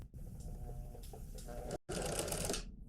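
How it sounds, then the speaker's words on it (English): A sewing machine stitches a waistcoat's shoulder seams and armholes at close range, running steadily with a fast mechanical whir, cutting out briefly and then restarting. "we're off to the sewing machine"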